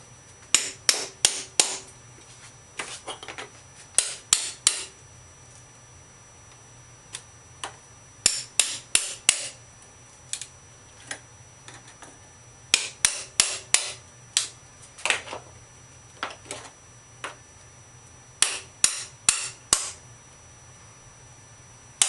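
A hammer strikes repeatedly while removing a rotted door jamb, the sharp knocks coming in quick bursts of several blows separated by short pauses, close and loud against a quiet background.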